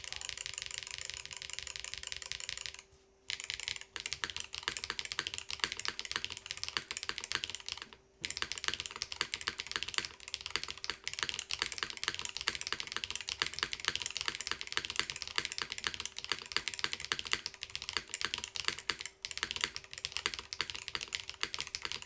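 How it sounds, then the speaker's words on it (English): Rapid mechanical keyboard typing with GMK keycaps, crisp, clacky keystrokes in continuous bursts with sharp-sounding alphas, broken by two brief pauses. "Let's see what this sounds like now that we switched out to GMK."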